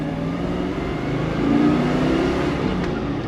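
A Chevrolet Chevelle SS muscle car pulls away with a smooth, steady engine note that swells briefly midway, heard from close by with no talking.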